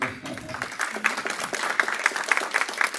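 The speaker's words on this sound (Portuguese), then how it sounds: "Só uma de palmas, né?" A lecture audience gives a short burst of applause. Brisk, moderately loud clapping with individual sharp claps rises right after a brief moment of quieter sound at the start.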